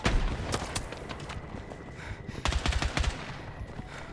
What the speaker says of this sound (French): J'ai vite compris en tirant en rafale que